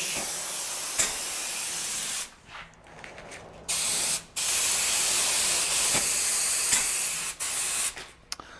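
Spray gun applying a first coat of lacquer to the edge of a cut-out wooden board, a loud steady hiss in bursts broken by short gaps, close by with no talking.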